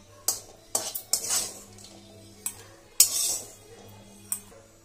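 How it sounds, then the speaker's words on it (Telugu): Roasted cashews and peanuts are scooped from a pan into a mixer jar, producing a series of sharp metallic clinks and scrapes in irregular bursts, close and moderately loud with quiet between. "ఇప్పుడైతే మిక్సీ జార్లో తీసేసుకుంటున్నాను."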